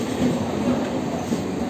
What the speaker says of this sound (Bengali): ট্রেন এসে গেছে, আমরা এখন ঘরে যাব